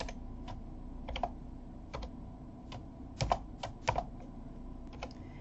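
Someone types on a computer keyboard while writing webpage code. Scattered, close key clicks come in short irregular bursts over a low, steady room hum, with a small cluster of quicker taps near the middle.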